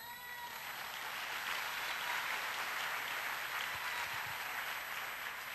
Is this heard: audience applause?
yes